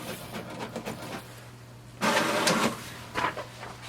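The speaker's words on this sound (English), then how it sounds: "click this icon again and it will send a command wirelessly to print" An HP Deskjet 2632 all-in-one printer works through a print job, with mechanical whirring and a louder feed burst midway amid a steady low motor hum, close up and without talk.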